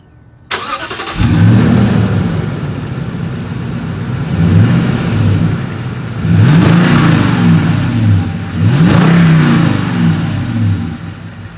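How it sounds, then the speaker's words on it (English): A 2020 Toyota Sequoia SUV engine starts and then revs hard several times in repeated surges, with a deep exhaust roar between the bursts. It is loud and close, and nobody speaks. "As always, here is that exhaust clip."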